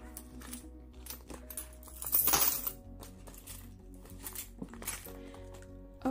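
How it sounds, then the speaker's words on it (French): Small coins are dropped into a monthly savings pouch: a series of close, light metallic clinks and jingles, with one louder rattling spill midway and softer handling rustles around it. "maintenant je vais venir mettre mes petites pièces dans la pochette économie du mois."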